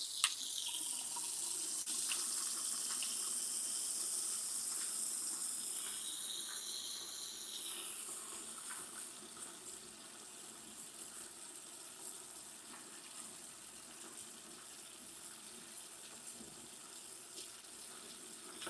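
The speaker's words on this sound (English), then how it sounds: "Let's turn the water back on." Tap water runs steadily into an aquarium during maintenance, a hissing gush that is strongest at first and then settles into a softer continuous flow, with no talk.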